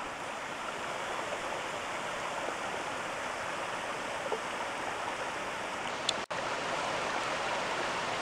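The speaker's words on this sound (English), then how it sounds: "And over there's the waterfall." A waterfall running low in a dry spell gives a steady, even rush of water from a short distance, unbroken except for a brief click near the end.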